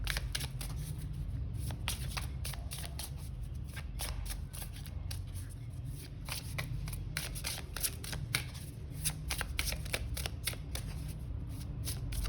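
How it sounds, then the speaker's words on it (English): Rapid, continuous riffling of tarot or oracle cards being shuffled up close, a steady dense flutter of papery snaps with no talking. "I have a tendency to shuffle really fast"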